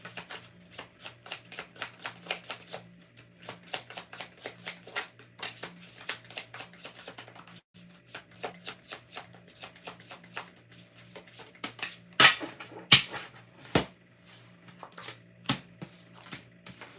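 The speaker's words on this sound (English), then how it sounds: "One more shuffle." Rapid riffling bursts of tarot cards being shuffled, repeated over and over in quick flurries, close and clear, with a few sharper slaps near the end.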